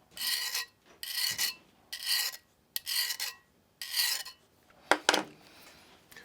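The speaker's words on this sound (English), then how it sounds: "that's how you do the serrated part" Pocket Pal knife sharpener drawn along a serrated blade edge in five or six steady rasping strokes, close and alone, ending with a couple of sharper scrapes.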